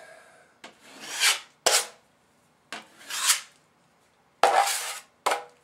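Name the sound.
filling a drywall hole with joint compound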